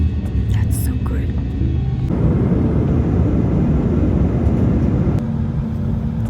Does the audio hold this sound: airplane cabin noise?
yes